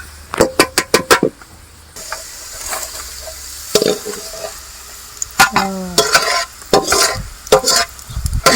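Garlic sautéing in a hot pan for Burmese-style egg bhejo crackles steadily while a spatula clatters and scrapes in quick bursts, with rapid metallic knocks at the start and scattered stirring strokes throughout, close and fairly loud.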